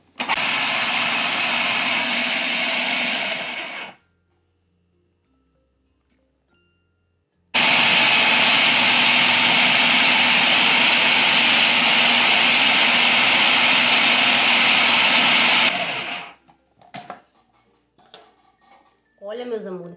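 A blender whirs loudly as it blends frozen fruit ice cream with passion fruit, running in a short burst, stopping for a few seconds, then roaring steadily for about eight seconds before cutting off into faint clatter.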